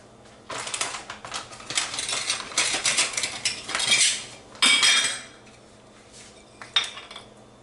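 Salmon-filled pastries on a metal tray go into an oven, with repeated metallic clatters, clinks and rattles of rack and pan, loud and close, with bursts between short quieter pauses.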